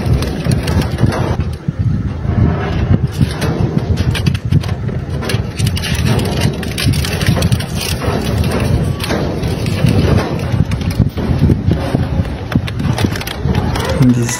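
A shredder machine tears through empty steel cylinders and scrap steel, giving a loud, continuous grinding and rumbling roar with steady mechanical clatter throughout and no pauses.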